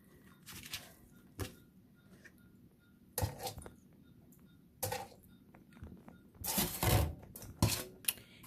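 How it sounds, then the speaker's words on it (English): A small plastic bowl handled in a kitchen, producing scattered hollow clacks and knocks with quiet gaps between them, and a busier run of clattering and rattling near the end, all close and with no speech. "So I'm going to use one of these little old plastic bowls."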